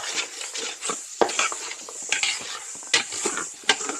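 Holy Trinity vegetables stirred in a gumbo pot, with repeated scrapes and clinks of a spoon against the pot over a light sizzle, close and fairly loud.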